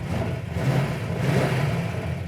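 A 1970 Dodge Super Bee's 426 Hemi V8 idles at about 500 to 600 RPM with a low, steady rumbling thump, close by and continuous, no voices over it.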